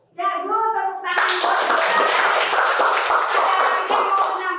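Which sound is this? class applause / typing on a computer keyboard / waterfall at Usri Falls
class applause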